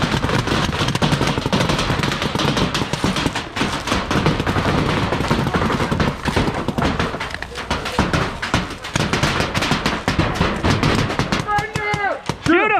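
Machine-gun fire from a tank run event, rapid continuous bursts of shots close and loud throughout, with shouting voices mixed in and a few vocal calls near the end.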